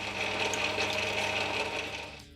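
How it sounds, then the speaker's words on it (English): A drill bores a deep hole through steel for the sliding pin of a Starrett-style tap wrench, giving a steady, close, high-pitched whirring grind that fades out at the end. "start drilling the hole for the sliding pin to go through"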